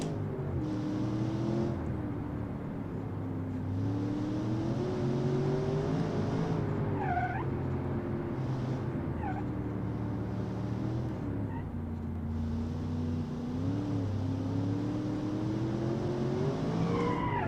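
Simulated car in BeamNG with too much power and little grip, engine droning steadily throughout with brief high tire squeals chirping around the middle.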